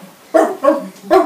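An assistance dog vocalizes in its sleep: three short, muffled woofs or yips spaced about a third of a second apart, close by and fairly loud, with no talking.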